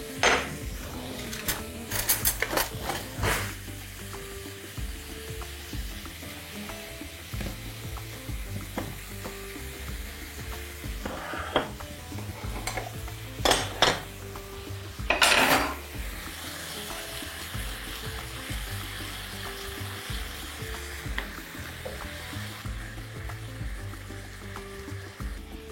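Beef tenderloin, about half a kilogram, sizzles steadily in a hot pan with a knob of butter, with occasional scrapes and stirring clinks over the continuous frying hiss.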